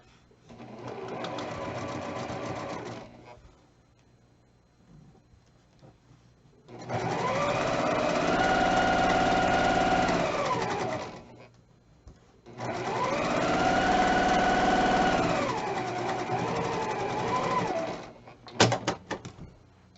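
Sewing machine stitching quilt fabric pieces together runs in three bursts of steady motor whir, a short one followed by two longer runs separated by pauses, ending with a few clicks and handling noises.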